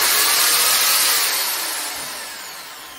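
An iBELL impact drill spins at its top speed of 2800 RPM, giving a steady, loud, high whine that slowly eases off as it keeps running alone.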